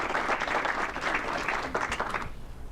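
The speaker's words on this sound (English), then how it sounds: "Let's give them a round of applause because they really did a great job." A room of members at a Rotary club meeting gives a round of applause, dense continuous clapping at moderate loudness that cuts off near the end.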